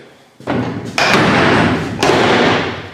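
A heavy metal jail cell door slams shut in a historic jail with a loud thud and clang, followed by more booming impacts that ring out and fade.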